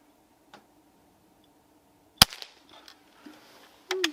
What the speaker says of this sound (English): Here we go, first shot.